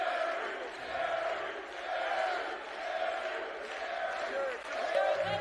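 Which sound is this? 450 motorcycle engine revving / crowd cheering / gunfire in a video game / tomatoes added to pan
crowd cheering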